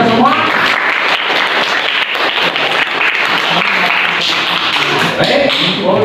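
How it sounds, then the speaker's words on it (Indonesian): A classroom of students claps together at the end of a guidance lesson, loud continuous applause with some thumps and taps, close and filling the room. "Tepuk tangan untuk kita semua."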